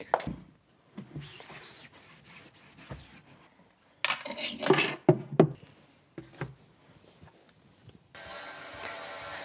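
Dishes and cutlery from the night before being handled while a kitchen is cleaned: irregular clinks, scrapes and rubbing clatter, louder in bursts around the middle, with a steady running-water hiss near the end.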